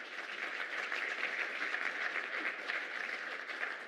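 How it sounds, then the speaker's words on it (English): Steady audience applause at a climate resilience symposium as guests walk to the stage, a continuous, moderately distant wash of many hands clapping evenly. "Please clap your hands as they make their way to stage."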